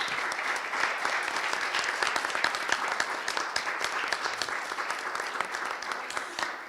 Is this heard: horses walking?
no